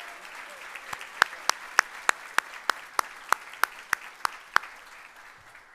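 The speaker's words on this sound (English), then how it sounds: "How about one more round of applause for all?" An audience at a community awards ceremony gives a round of applause: a moderate crowd clapping from a distance, with sharp individual claps standing out at a steady rhythm and fading toward the end.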